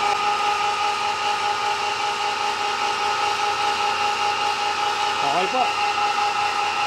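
A pelletizer machine runs during a test, giving a loud, steady mechanical whirr that stays even throughout. A brief spoken word sits near the end.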